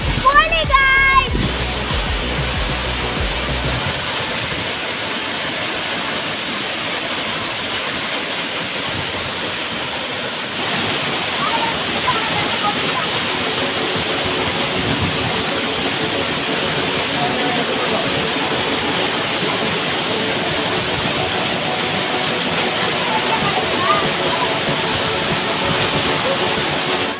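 Rushing water at Pampanal waterfall makes a loud, steady roar that runs throughout, with brief voices and a clatter at the very start.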